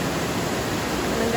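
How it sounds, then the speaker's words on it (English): A waterfall pouring down into Whitewater Creek along a forest hiking trail, a loud, dense, unbroken rushing roar heard up close for a brief moment. "More waterfalls"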